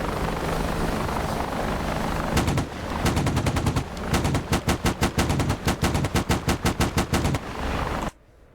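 An AH-64D Apache helicopter's gun fires in DCS World, a rapid burst of loud cannon rounds in a steady rhythm over the continuous roar of the rotors and engines.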